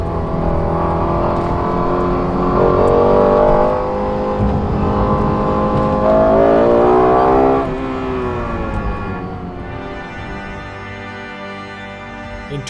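A Lexus LFA engine and exhaust wail loudly and close, revs rising in smooth sweeps, dropping, then climbing again before settling into a lighter, steadier tone, with no talk over it.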